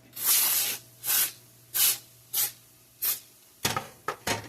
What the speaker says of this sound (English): Okay, we got our pan. Now we're going to spray it.